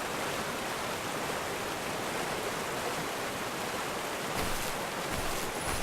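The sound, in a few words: waterfall and stream in the video game The First Tree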